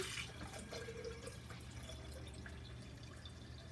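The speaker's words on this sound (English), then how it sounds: "we're going to take some of this water as well and fill it up about halfway" Water poured into a container until it is about half full, a soft, faint trickle and drip with no talking.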